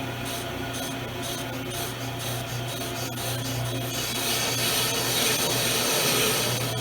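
A brake lathe cutter shaves rust off a brake rotor in an auto shop, giving a continuous gritty rasping scrape over a low steady machine hum, growing slightly louder and brighter in the second half.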